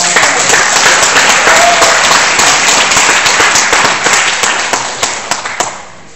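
A hall audience at a band exam claps loudly and densely, the applause holding steady before thinning into scattered final claps.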